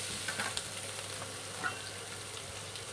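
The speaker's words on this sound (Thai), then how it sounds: "หมูต้มผัดให้หอมเลยนะครับ" Boiled pork ear stir-fried with a little curry paste in a hot pan, a steady dense sizzle with faint stirring scrapes, continuous and close with no talking.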